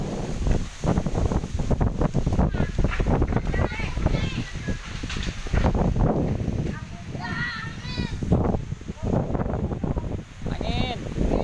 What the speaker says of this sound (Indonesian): Anginnya kencang, angin, puting beliung.